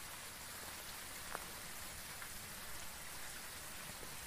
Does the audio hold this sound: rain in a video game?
yes